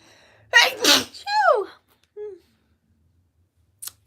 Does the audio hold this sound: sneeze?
yes